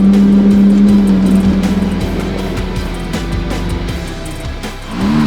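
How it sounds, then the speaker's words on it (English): A 4WD engine revs steadily as the vehicle climbs a steep, slippery wet rock on a rainy trail, a loud close drone with a rising rev toward the end. "We just gave it a couple more RPM just to give me some momentum over that slippery rock"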